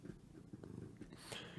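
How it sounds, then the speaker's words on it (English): A cat purrs close to a microphone in a soft, rhythmic rumble, with a faint breathy snuffle toward the end. "You gonna purr in the microphone so everybody can hear you?"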